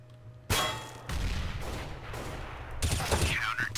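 Gunfire in Counter-Strike: Global Offensive: a sharp loud shot bursts in, followed by sustained rattling fire and a second cluster of shots near the end.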